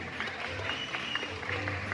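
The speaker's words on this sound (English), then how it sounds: "So round of applause to our blue and gold Mokone, Harry." Audience applause at a bird show after a performing blue-and-gold macaw act, a soft, steady patter of many hands heard from a distance.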